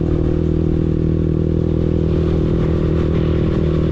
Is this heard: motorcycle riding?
yes